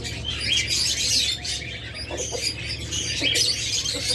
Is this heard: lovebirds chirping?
yes